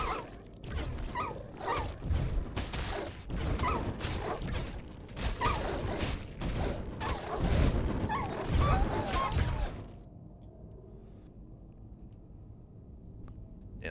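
Dogs in Baldur's Gate: Dark Alliance II, a busy burst of barking, snarling and combat clatter for about ten seconds, loud and crowded, then dropping to a quiet game ambience.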